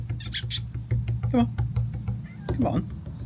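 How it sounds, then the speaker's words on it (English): A cat meows a couple of times, close by in a spring garden, amid soft background hum and light rustling. "What are you meowing at?"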